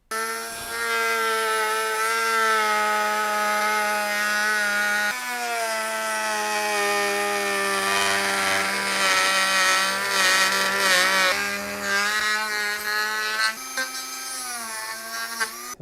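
A power tool saws through the rear bumper of a C7 Corvette ZR1, a continuous loud whining cut with strong tonal harmonics that shifts pitch several times as the blade loads and frees, running unbroken throughout.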